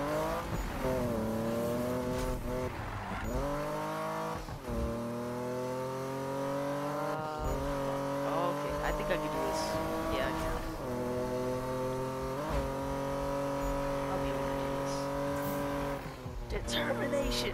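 A car in the video game Need for Speed 2015 drives with a steady, droning engine whose pitch rises and falls as it shifts through the gears, with occasional tire squeal.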